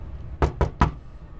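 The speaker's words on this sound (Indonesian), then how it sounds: "ada suara ketukan di tembok 3 kali" Three sharp knocks on a wall at night, evenly spaced and close together, each a crisp broadband rap, then quiet room tone.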